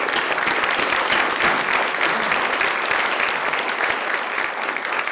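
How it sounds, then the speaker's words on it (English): Audience at a literary lecture breaks into sustained applause, dense steady clapping from a large crowd filling the room throughout. "Please give them a round of applause."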